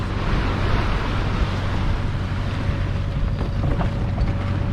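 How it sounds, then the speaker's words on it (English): A boat engine idles to warm up outdoors on the water, a steady low rumble with a constant hum running throughout, mixed with wind and surf noise, no voices. "I think he just wants to make sure that the engine's all warmed up"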